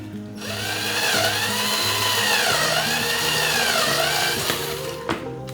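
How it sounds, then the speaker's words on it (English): A power drill whirs steadily for several seconds drilling marked holes in an IKEA Tarva kitchen island, its motor pitch wavering under load, then spins down and stops with a short clatter. "Drill."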